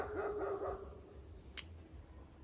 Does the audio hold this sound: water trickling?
no